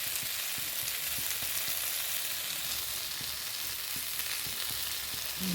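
Vegetables with salt and turmeric fry in a pan, giving a broad, even sizzling hiss that holds steady throughout, close and moderately loud, with faint stirring ticks and no speech.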